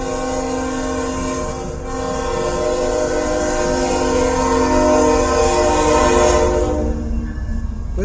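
CN 383 southbound freight train passing in Richmond, Michigan, with a loud sustained multi-tone horn blast over steady rumbling wheels, close and continuous, no talk.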